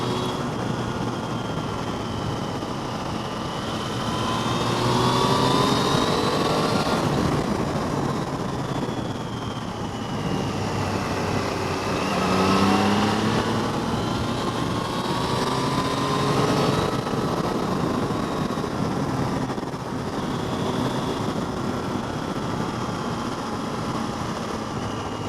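Triumph Tiger Sport 660 motorcycle ridden at speed, a steady engine drone with rising and falling pitch as it accelerates and eases off, under heavy wind rush throughout.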